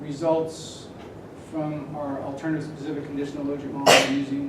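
A single sharp sneeze bursts out near the end, cutting through a lecturer's steady talk in a university business lecture.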